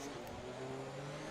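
A race car engine at Monaco in a racing game gives a steady, buzzing drone through the whole short moment, with no talking over it.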